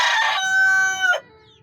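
A rooster crows once, loud and close, a harsh opening burst followed by a long, bright, wavering sustained call that cuts off abruptly, then quiet.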